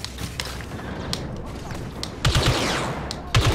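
Scattered bursts of blaster and gunfire in a Star Wars clone battle video game, with sharp cracks and thumps near the end over a busy rumbling background.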